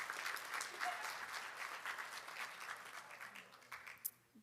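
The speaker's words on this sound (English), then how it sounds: "Yeah, clap." Audience applause at a DHS high school graduation ceremony, a steady wash of many hands clapping from a moderately distant crowd, holding evenly for several seconds with a brief louder burst near the end.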